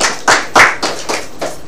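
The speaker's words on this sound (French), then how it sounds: "Ça s'applaudit, hein?" A handful of sharp, separate hand claps from a small group or a single person, about six claps in an uneven rhythm, close and fairly loud.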